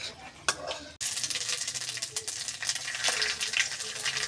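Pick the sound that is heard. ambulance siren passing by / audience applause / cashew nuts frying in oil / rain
cashew nuts frying in oil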